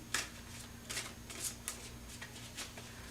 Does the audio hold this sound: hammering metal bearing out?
no